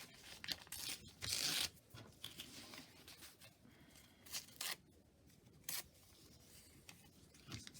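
A book page is torn by hand at close range for a craft paper roll, heard as several short ripping bursts of varying length separated by quieter rustling and soft handling noises, with no speech.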